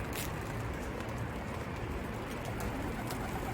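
Pigeons coo softly in the distance inside a multi-tiered coop beneath a steady, noisy hiss of background sound.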